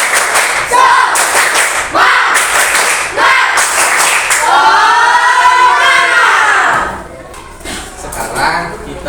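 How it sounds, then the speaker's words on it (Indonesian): A classroom group performs a rhythmic spirit clap (tepuk semangat), loud patterned bursts of clapping in unison alternating with chanted voices, then fading to quieter chatter. "sekarang kita lakukan tepuk semangat"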